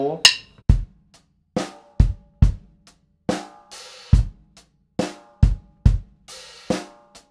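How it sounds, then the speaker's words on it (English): Drum kit playing a rock groove, with open hi-hat splashes ringing out among punchy kick and snare hits in a steady, close, unaccompanied pattern. "make sure you get that nice open hi-hat sound for both of those places"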